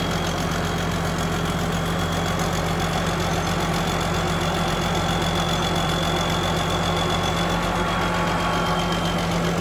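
A combine harvester stuck in mud runs its engine continuously, giving a loud, dense, unbroken drone with a steady low hum and some rough knocking texture. No speech is heard.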